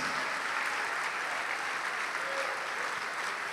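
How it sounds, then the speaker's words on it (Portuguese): A church congregation keeps up a sustained, even round of applause during a worship service, the dense clapping filling the room without pause. "Vamos aplaudir mais ao nome de Jesus."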